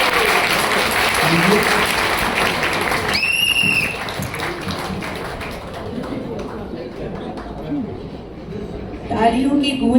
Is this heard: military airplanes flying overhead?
no